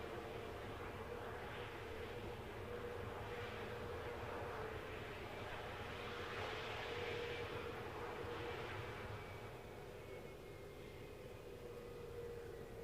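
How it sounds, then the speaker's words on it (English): A Boeing 787 Dreamliner, about ten years old, departing Glasgow airport, heard as a steady broadband jet engine roar that swells gently in the middle and eases toward the end, with no talk over it. "as soon as this vacates, the Dreamliner will go"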